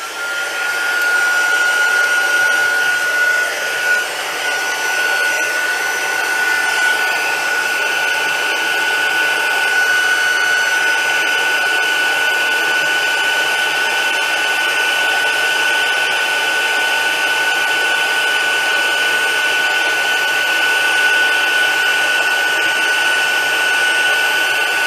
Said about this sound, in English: And come back and switch the heat gun on.